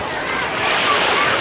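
Black Sea surf at the beach in Vityazevo, Anapa, a steady wash of waves mixed with wind noise on the microphone, continuous and fairly loud.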